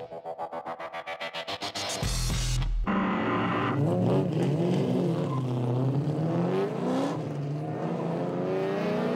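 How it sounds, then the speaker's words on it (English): Drift car at Formula Drift 2005 in Houston: a loud engine note climbing and wavering as it comes in at speed, after a brief rapid pulsing, close and continuous. "Here we go, RHYS Millen, the Kiwi, coming in at speed, trying to pull away from James."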